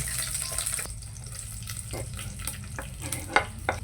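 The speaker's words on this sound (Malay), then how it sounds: "Pertama, tumis serai." Lemongrass sautés in hot cooking oil, giving a close, steady sizzle with a few sharper scraping and stirring knocks scattered through the few seconds, without any voices.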